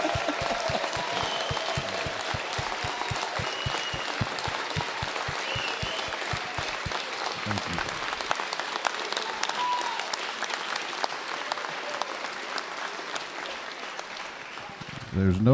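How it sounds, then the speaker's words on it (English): Sustained applause from lawmakers filling the Georgia House chamber, dense steady clapping for about eight seconds that thins into scattered claps while voices murmur underneath. "I think we need to give you a round of applause."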